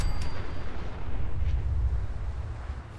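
A Nuka grenade going off in the video game Fallout 4, a loud, deep, rumbling blast that rolls on as a sustained low roar for a few seconds.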